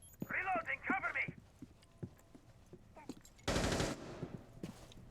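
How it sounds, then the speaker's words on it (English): Gunfire in a video game match rings out as a short loud burst near the end, following a few scattered sharp shots and game sound effects, with a caster talking briefly over the action at the start. "Gunfire going out"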